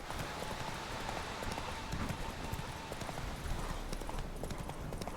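Horse hooves clip-clop rapidly in a steady galloping rhythm in The Witcher 3: Wild Hunt, close and continuous throughout, with faint background noise.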